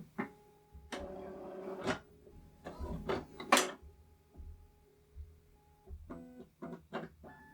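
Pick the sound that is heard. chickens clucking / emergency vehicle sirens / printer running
printer running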